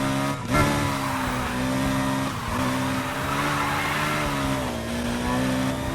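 A Chevrolet Corvette Grand Sport slides into a corner in the racing game Need for Speed Heat, its tires squealing over a constant engine roar, with a brief burst of skid noise early on.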